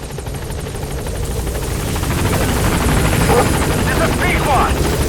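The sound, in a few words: helicopter arriving at landing zone, video game Metal Gear Solid 5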